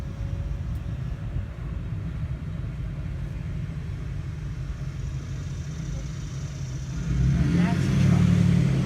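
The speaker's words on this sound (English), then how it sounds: "That's the truck." Truck passing on a suburban street in Atlanta, a steady low engine rumble that swells louder near the end as it draws close.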